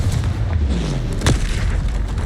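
Confringo explosion spell cast in Hogwarts Legacy, a loud booming blast with a sharp burst near the middle over a dense, sustained rumble of battle noise.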